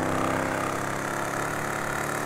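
Steady, loud engine idle of the Rat Truck in GTA 5 Online, a continuous rumbling drone with a slight rough, knocking texture and no talk over it.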